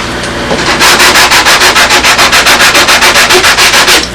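Rapid, even back-and-forth rasping of a sanding block squaring the end of a model aircraft wing, loud and close, about two dozen strokes in a steady rhythm.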